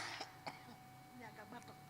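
During a church service, a speaker clears his throat and coughs a few times, short rough bursts close to the microphone, followed by faint voiced sounds.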